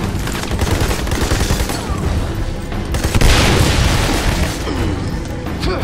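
Dense gunfire and heavy booming blasts, including a grenade explosion, fill a firefight in the video game Army of Two: The Devil's Cartel. The action sounds loud, continuous and close, with bursts of automatic fire layered over deep rumbling impacts.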